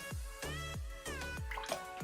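Vanilla pouring into a peanut and pumpkin punch, a close series of liquid drips and glugs repeating about every half second, faint and without talk.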